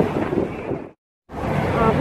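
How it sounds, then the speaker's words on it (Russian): Strong wind buffets the microphone outdoors near a boat, a loud rushing roar that cuts out briefly and returns. "Тут вообще ветер нереальный."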